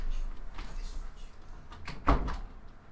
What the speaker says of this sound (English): I'm gonna close my door